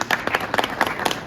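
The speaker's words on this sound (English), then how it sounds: "A round of applause for him." An audience claps briefly for an official being welcomed at a youth content creator event in Bloemfontein, Free State: steady, moderately loud scattered hand claps with no voices over them.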